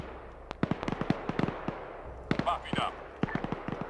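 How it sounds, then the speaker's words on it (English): Rapid sharp bangs of video game gunfire pop in irregular bursts, some clustered close together, with faint background noise between shots. "Now they hear those gunshots, so they're gonna follow down."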